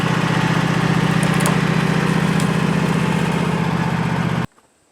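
A lawn tractor engine runs loud and steady with a low, constant drone, then cuts off abruptly near the end.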